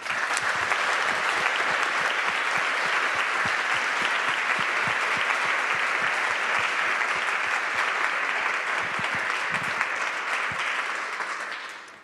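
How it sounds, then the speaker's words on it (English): Sustained applause from a conference audience in a large hall at a humanitarian congress in Berlin, dense steady clapping that fills the room for the full length and fades slightly at the end. "A big applause,"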